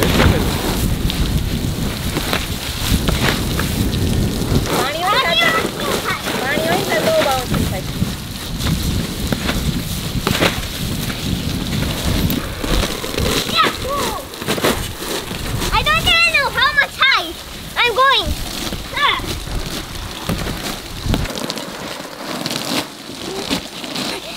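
Artificial rain of water spraying down onto a backyard trampoline, a continuous dense hiss and patter throughout, loud and close, with children's and adults' voices calling out over it.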